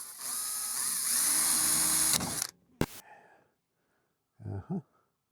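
A power drill whines steadily as it bores a pilot hole in thick steel, then cuts off abruptly. A brief clunk and a few faint handling noises follow.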